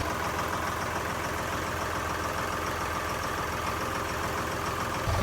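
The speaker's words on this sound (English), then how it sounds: "For an engine that's probably not run in 10 years, sounds just great." An old marine engine, probably unused for about ten years, idles steadily after being restarted, a faint, even mechanical chug with no breaks or revving.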